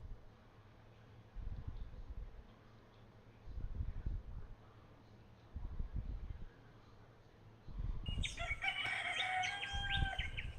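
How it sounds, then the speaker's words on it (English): A rooster crows in the distance near the end, over low rumbling outdoor noise and a few faint bird chirps. "The birds, the roosters. Can you hear that in the background?"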